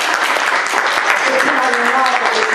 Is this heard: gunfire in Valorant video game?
no